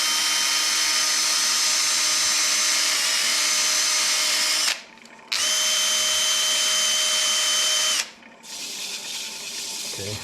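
A dyed maple vase spins on a wood lathe while 400 grit sandpaper is pressed against it, giving a loud, steady whirring hiss that drops out briefly twice as the paper lifts off.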